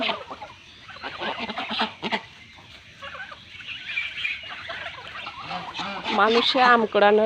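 Domestic ducks quack and honk close by in a noisy cluster under a mango tree in the morning, calls rising and falling, with faint talking in the background.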